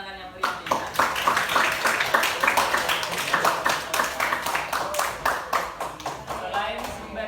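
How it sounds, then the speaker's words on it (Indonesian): A classroom claps for a student named Intan, a close, brisk run of fairly even claps that continues for several seconds. "Mari kita berikan tepuk tangan yang meriah Intan."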